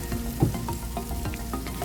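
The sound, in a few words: stir-frying cabbage and carrot vegetables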